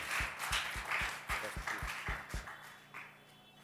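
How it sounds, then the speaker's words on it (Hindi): An audience gives a faint round of claps to welcome guests at a religious discourse gathering. The evenly spaced claps fall into a rhythmic beat that fades toward the end. "जोरदार तालियों से उनका स्वागत करेंगे"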